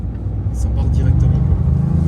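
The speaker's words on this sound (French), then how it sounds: "tu remets gaz, tu vas voir comme ça part directement." A Toyota GR Yaris engine revs up and pulls hard out of a corner, rising in pitch as it accelerates, with someone talking over it.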